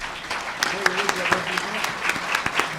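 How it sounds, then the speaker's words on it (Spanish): Audience at an economic outlook panel gives a final round of applause for the panelists, a short burst of scattered clapping with individual claps standing out and faint voices underneath. "quisiéramos que le demos un aplauso final a los panelistas"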